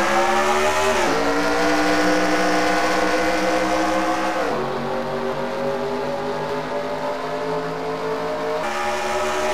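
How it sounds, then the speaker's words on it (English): Racing trucks at Darlington roar at full throttle on the restart, the engine note climbing steadily through three upshifts as the pack runs single file, loud and continuous with no talk. "as all the trucks are going single file into the back straightaway"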